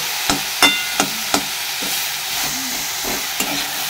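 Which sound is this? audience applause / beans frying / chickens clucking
beans frying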